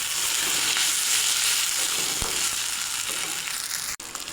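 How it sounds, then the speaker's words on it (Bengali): Onion, ginger and garlic fry in hot oil in a pan as cumin and spices go in, producing a dense, loud, continuous sizzle with a brief sharp clink near the end. "পেঁয়াজ, আদা, রসুন ভালো করে ভাজা হয়ে গেছে। এখন জিরে মশলাগুলো দিয়ে দেব।"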